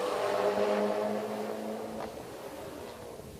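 A turbocharged Jeep Cherokee with a manual gearbox and a front-wheel-drive Dodge drag racing on a quarter-mile strip, their engines a loud, steady roar that eases slightly as it moves off.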